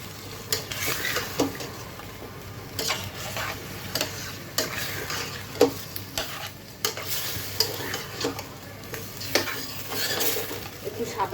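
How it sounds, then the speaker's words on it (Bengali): Chicken korma being stirred and fried in a pan without turmeric or chili, with steady sizzling, repeated utensil scrapes and clinks against the pan, and faint voice in the background. "এই অবস্থায় একটু ভালো করে আমি কষিয়ে নিচ্ছি"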